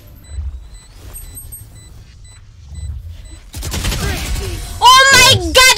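Rapid video-game gunfire erupts midway through a last-player-standing battle, loud bursts following a quiet stretch, with excited speech layered over the shots.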